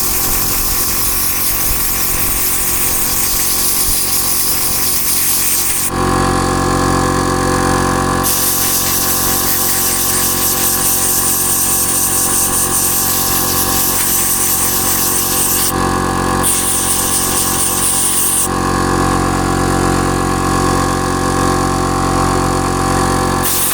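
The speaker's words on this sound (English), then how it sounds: "So we'll get the compressor on and we'll blow it out." Loud, sustained blast of compressed air from an air compressor blowing out a part on a Land Rover Discovery 3 being repaired for a C1A13-64 fault, hissing continuously with brief breaks and changes in intensity.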